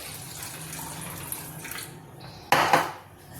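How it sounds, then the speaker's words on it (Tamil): Water splashing and pouring into a metal kitchen vessel with light clinks of the pot, ending in a louder splash near the end, close and without talk. "இந்த தண்ணியை எடுத்துட்டு திருப்பி இன்னும் கொஞ்சம் நல்ல தண்ணியை ஊற்றி இதில் வச்சுருவேன்"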